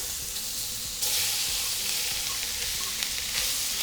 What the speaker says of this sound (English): we're going to heat up a little bit of oil and melt 2 tablespoons of butter. Okay, once that's ready, we're going to add our shrimp.